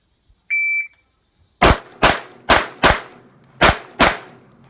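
Six sharp pistol shots crack out at a shooting range with Sig P320RX, Glock 17C, Glock 19C and Sig P226 handguns, spaced irregularly about half a second apart and each trailing a short echo, preceded by a brief electronic beep.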